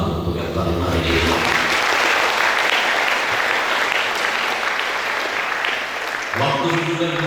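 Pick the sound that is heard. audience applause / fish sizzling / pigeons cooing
audience applause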